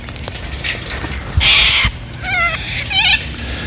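Cockatoos call outdoors near a beach in loud, harsh screeches, one long raspy shriek followed by two shorter wavering squawks, close by with no speech.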